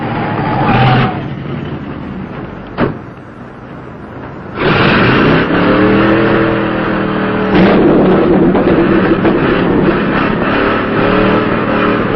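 A car engine revs hard and roars loudly, with rising and falling pitch as it accelerates, close by and without any talking.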